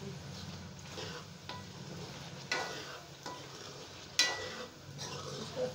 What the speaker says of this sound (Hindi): इसको अच्छी तरह ये भुनाई इसकी हो जाए